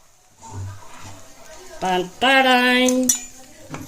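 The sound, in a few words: idli being added and stirred in a pan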